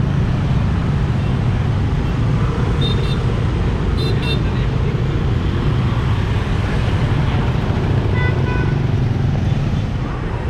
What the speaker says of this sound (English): So many motorbikes, it's absolutely amazing.